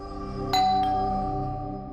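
A doorbell at a house sounds a single bright chime that rings on and fades, followed by a softer second tone, over a steady background hum.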